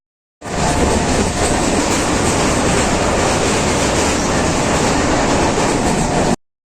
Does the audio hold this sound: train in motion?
yes